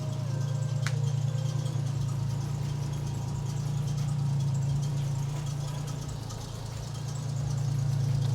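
Toyota Supra Mk4 with a 2JZ engine idling steadily after starting, a deep continuous rumble that stays loud and close throughout with no speech over it.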